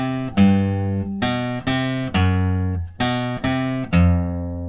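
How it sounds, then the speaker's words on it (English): Electric guitar playing short, sharply muted three-note runs low on the neck, repeated several times, each group of notes clipped off cleanly, loud and close with no talking. "So those 3-note sections sound like this."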